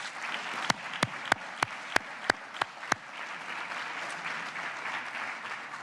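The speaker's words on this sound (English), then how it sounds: "How about a round of applause for the Case Glee Club?" An audience at a university alumni reunion and awards ceremony applauds a glee club, with a steady spread of distant clapping. Several loud, sharp, evenly spaced claps ring out close by early on before the crowd patter carries on alone.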